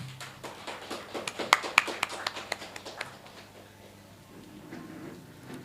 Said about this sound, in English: So let us welcome Dr. Vidya Nagaloka with a big applause.